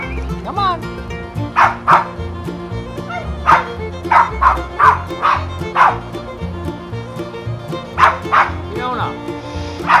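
Westie and Poodle puppies yip and bark in quick, scattered bursts, a dozen or so sharp close yaps with some whimpering between them, while a person speaks nearby.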